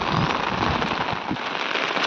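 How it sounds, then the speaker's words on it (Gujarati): Steady rain falls in a village at night, a dense even hiss of drops hitting surfaces close by, with scattered heavier splashes and no voices. "હજી ચાલુ જ છે વરસાદ ધીમે ધીમે"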